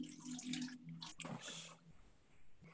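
Grapefruit soda pours over a drink in a glass, a close, gurgling, splashing liquid sound lasting a couple of seconds with faint voices in the background.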